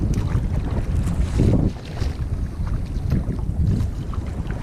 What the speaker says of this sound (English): It's a lovely boat to paddle when there's a bit of bounce on the water.